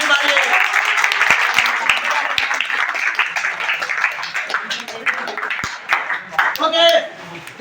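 Students clap during a classroom quiz contest, a lively burst of applause that gradually thins into scattered claps, with a voice speaking over it and a few sharp isolated claps standing out.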